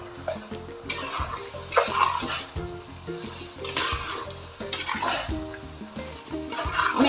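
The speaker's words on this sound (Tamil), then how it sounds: "மேரினேட் பண்ண சிக்கன் அப்படியே போட்டுருவோம்." Marinated chicken drops into tomato masala in a biryani pan, bursting into loud sizzling and bubbling with wet stirring and spoon scrapes, the frying hiss rising and falling close by without talk.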